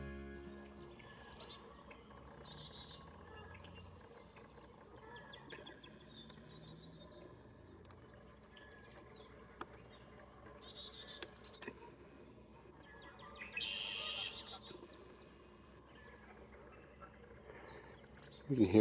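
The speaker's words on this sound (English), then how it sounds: "You can hear the red-winged blackbird singing off to the left here." A red-winged blackbird sings somewhere off to one side on an April morning, its faint, buzzy phrases repeating at intervals over a quiet background of insects and crickets.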